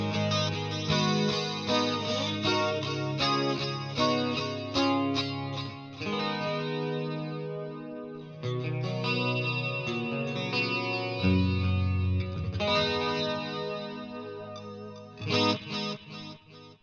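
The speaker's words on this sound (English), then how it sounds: "we're layering in the delay in the chorus, and this is almost a 12-string vibe" An electric guitar through a Splawn Quick Rod amp strums and picks chords through a shimmering chorus and repeating delay, bright and ringing like a twelve-string, played loud and alone.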